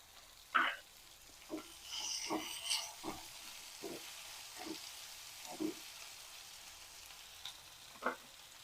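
Chutney ingredients with rock salt and mint sauté in a pan, giving quiet intermittent scrapes and taps of stirring over a faint sizzle.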